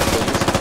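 Rapid machine gun burst in a Squad Zombies video game, a brief, dense string of about seven or eight evenly spaced shots, loud and close.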